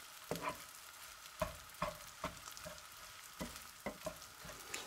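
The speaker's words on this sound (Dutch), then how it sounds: "Ik ga dit even rustig omscheppen en bakken." Egg and rice for nasi goreng are stir-fried in a pan, a soft continuous sizzle broken by regular scraping knocks of the spatula roughly every half second, close and quiet with no talk.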